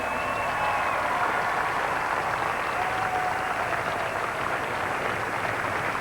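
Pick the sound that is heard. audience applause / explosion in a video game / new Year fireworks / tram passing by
audience applause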